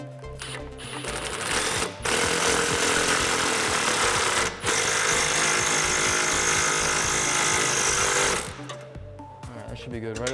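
An impact wrench tightens a nut to compress the suspension bushings on a 1994-2004 Ford Mustang fitted with an Eibach Sport-System-Plus kit, a loud, close, continuous hammering rattle with two brief pauses.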